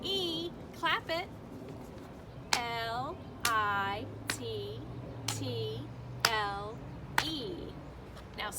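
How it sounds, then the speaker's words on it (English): Sharp hand claps fall one per letter at an uneven pace while voices spell a word aloud in a classroom-style chant, the clapping close and crisp between the spoken letters. "Clap it."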